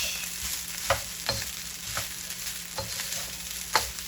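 A spoon scrapes and stirs turmeric rice in a pan, with rhythmic scraping strokes roughly every half second over a soft continuous sizzle, close and fairly quiet.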